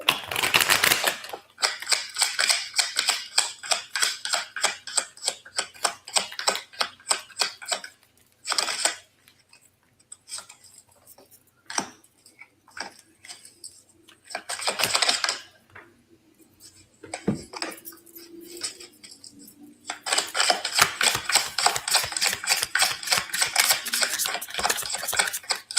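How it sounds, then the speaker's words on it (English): Repeated rapid riffling and flicking of tarot cards in bursts, crisp and close, with quieter handling sounds between the shuffles. "Shuffle them up again."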